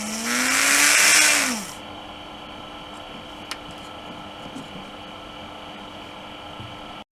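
A homemade brushless DC motor whines loudly, then drags down in pitch as resistance is applied to its rotor. The sound cuts off abruptly, leaving only a faint steady hum with an occasional tiny click.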